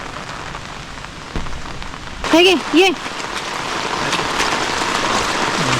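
Monsoon rain falls steadily on a Konkan rice field during planting, a dense hiss that grows heavier over time, with brief human calls partway through.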